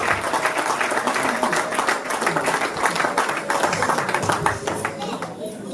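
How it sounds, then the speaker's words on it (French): Wedding guests clap steadily in a room, a dense patter of hands that continues for several seconds while voices are heard underneath. "Est-ce qu'on peut applaudir pendant qu'elle va se mettre?"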